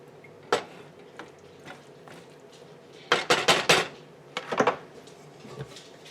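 Fried noodles and cabbage are turned over in a pan, giving a few sharp metallic scrapes and clanks of the utensil against the pan, with a busier cluster of clatter in the middle, close and fairly loud.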